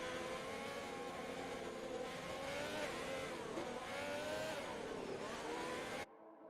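Race cars in the F1 2020 video game at the British GP, a continuous loud engine whine with shifting revs and overlapping cars, cutting off abruptly near the end.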